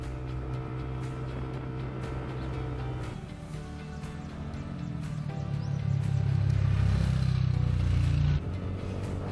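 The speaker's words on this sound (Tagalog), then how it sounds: "dito sa daan na to medyo kumukunat na yung ahon. Kaya nararamdaman ko medyo nahirapan yung motor." A motorcycle engine labors up a steep road, a low steady drone that grows louder and strains harder midway before easing near the end, with no one talking.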